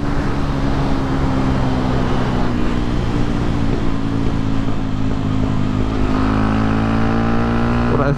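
A Yamaha WR 125 X single-cylinder motorcycle engine drones steadily and loud while easing off the throttle on overrun. The tone shifts slightly toward the end with a rough, continuous burble.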